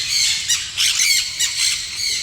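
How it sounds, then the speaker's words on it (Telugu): A bird perched on a gate at an exotic park in Tirupati gives a run of loud, close, harsh squawks, about five rapid calls in a little over two seconds. "ఈ బర్డ్ చూడండి, మాకన్నా ముందే వచ్చి గేట్ మీద వాలిపోయింది"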